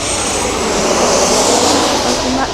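Eleven-year-old Ryanair UK Boeing 737-800 jet arriving from Tirana at Manchester Airport at night, a loud, steady broadband engine roar close by, with no pause for the full length.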